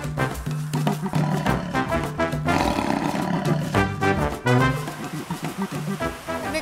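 A jaguar in a zoo enclosure roars loudly and repeatedly, deep rumbling growls rising and falling over several seconds with a rough, throaty texture.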